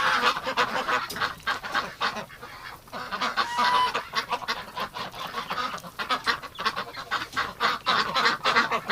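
Flock of ducks in a cold farm building in winter, loud continuous overlapping honking and quacking calls, close and agitated, with no voices.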